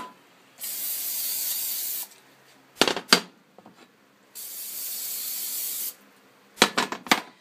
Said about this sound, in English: Then you're going to spray your loaf pans.